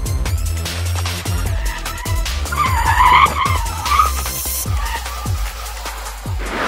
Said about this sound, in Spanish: está pasando detrás de mí con un vehículo con los amortiguadores totalmente gastados